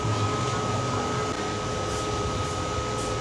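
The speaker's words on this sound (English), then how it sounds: "And excuse the noise, because that's my fan." A steady electric buzzing hum of a small neck fan, continuous and close, with a broad whirring hiss throughout and no talking.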